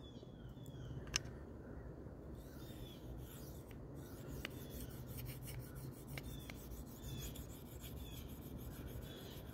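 A SPY27 Manix knife blade sharpened on a Venev resin-bonded stone gives a faint, steady, soft scraping hiss throughout, with a few light ticks, quiet and close, with no voices.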